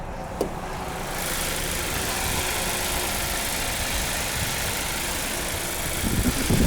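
A 2021 Volkswagen Jetta GLI with a turbocharged 2.0-liter four-cylinder idles steadily with a smooth low hum and rising slightly toward the end, heard close up with no talking.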